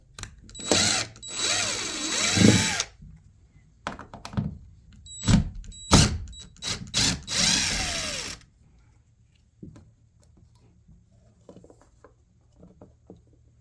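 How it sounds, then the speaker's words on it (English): A cordless drill unscrews a Honeywell programmable thermostat back plate from a wall in several close, loud whirring bursts of a few seconds each, with short pauses between, followed by quiet handling. "I will now begin unscrewing the back plate from the wall."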